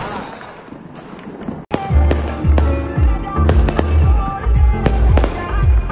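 Diwali firecrackers go off in a rapid series of sharp bangs and crackles, loud and close, following a quieter stretch with a hiss and scattered pops; voices are heard faintly among the blasts.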